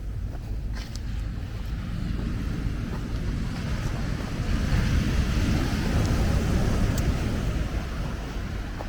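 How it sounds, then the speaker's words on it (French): Ocean waves wash up the beach at Port-Bouët, Abidjan, a steady loud roar of surf mixed with wind buffeting, continuous and close with no break. "Donc les vagues viennent jusqu'ici."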